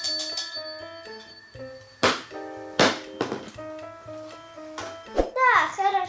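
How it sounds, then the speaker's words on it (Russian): A small hand bell rings several times in clear, bright bursts inside a home where a father is alone with his daughter, with a voice and soft knocks in between. "ты позвони в этот колокольчик."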